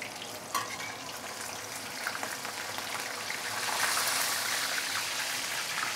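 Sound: whole snapper fish deep frying in oil in a wok

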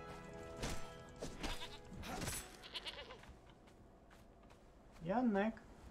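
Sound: goat bleating in Conan Exiles video game

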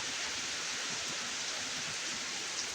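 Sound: strong wind

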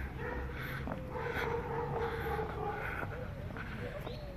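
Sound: dogs barking on a street in Guadalajara

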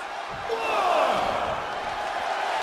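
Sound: crowd cheering in WWE 2K23 video game

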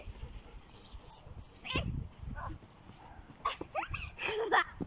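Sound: dog

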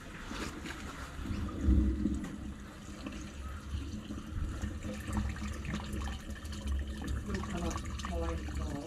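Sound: toilet being flushed

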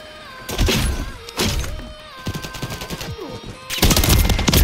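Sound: gunfire in video game Call of Duty MW3

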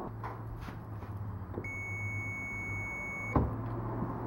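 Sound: continuity tester beep

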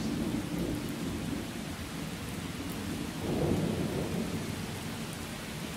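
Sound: rain and thunder in a video game

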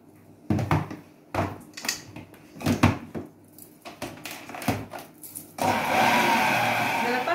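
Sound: mixing cake batter with cocoa using a mixer

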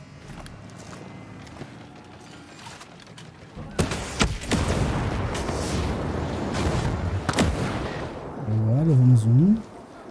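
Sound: sniper rifle gunfire in a video game

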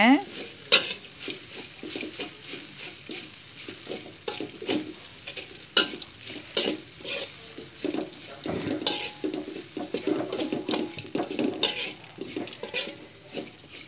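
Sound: stirring bread stir fry in a pan

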